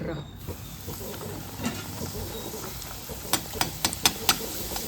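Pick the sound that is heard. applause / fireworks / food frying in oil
food frying in oil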